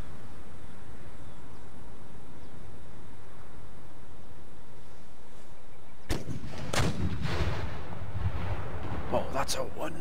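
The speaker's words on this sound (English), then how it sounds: "Artillery!" A sharp volley of cannon fire erupts in an Empire Total War battle after a stretch of steady battlefield noise, followed by several further booming blasts and rumbling impacts.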